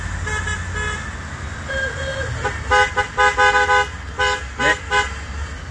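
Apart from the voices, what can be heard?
car horns honking along the road during a bike ride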